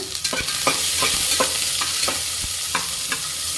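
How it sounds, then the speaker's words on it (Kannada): Chopped onion frying in a pan for a village-style mutton tripe gravy: a steady, close sizzle broken by regular scraping stir strokes roughly every third of a second, with no talk. "ಸೊ ಇದನ್ನು ಸ್ವಲ್ಪ ನೀಟಾಗಿ ಫ್ರೈ ಮಾಡ್ಕೊಳ್ಳೋಣ."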